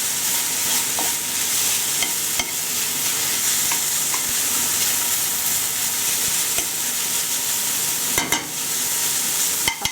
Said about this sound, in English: Just stir it around and leave it on the heat just enough to evaporate that soy sauce.